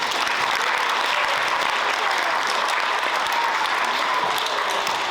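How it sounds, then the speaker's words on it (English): Sustained applause from a school band concert audience, dense and even clapping filling the hall without pause. "Another huge round of applause for our Fine Arts Supervisor"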